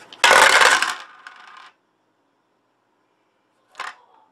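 Dice rolled onto a table during a Zombicide board game: a loud clattering tumble for about a second, then silence and one brief, fainter rattle.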